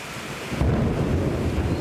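A thunderstorm passes directly overhead in Asia: a deep, loud rumble of thunder builds and rolls on over steady rain, heard close with no talking.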